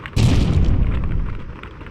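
In the turn-based apocalypse RPG Prometheus Wept, the shotgun-carrying priest Padre throws a Molotov cocktail. It bursts into one loud, close, booming blast of fire that rolls on and slowly fades over about two seconds.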